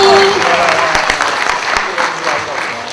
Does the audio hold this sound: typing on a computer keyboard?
no